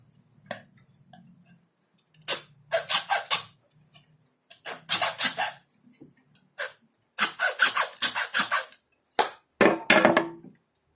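Bamboo being cut with a blade while making a Batak Toba sordam flute: rapid bursts of sharp, close sawing or chopping strokes in irregular clusters, separated by short pauses.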